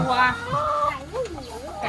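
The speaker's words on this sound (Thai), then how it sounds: "ไกตัวเมียนะครับ เพราะว่าเป็นไก่ไข่นะครับ" Laying hens cluck in a farm coop, several close rising and falling clucks overlapping, with someone talking over them.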